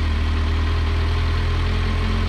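A Kawasaki motorcycle engine idling close by in a garage, a steady, loud low rumble with an even pulsing beat and no talk.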